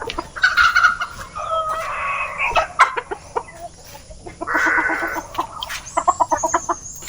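Backyard chickens clucking, with roosters crowing among them, under a bamboo grove. The calls come close and loud in bursts over a few seconds.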